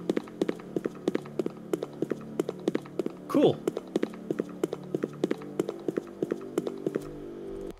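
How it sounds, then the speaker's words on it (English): Quick, evenly spaced running footsteps in a Unity first-person shooter game, a crisp series of close taps, with a brief spoken word partway through. "create footstep sounds for a controller"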